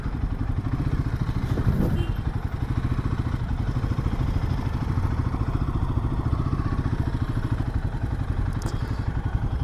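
A Royal Enfield Himalayan 450 motorcycle rides along a road, its engine a steady, close, pulsing rumble that continues throughout, with light clatter and wind noise mixed in.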